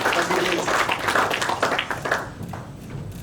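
Audience giving a round of applause at a talk, a brief burst of many hands clapping that tapers off after a couple of seconds.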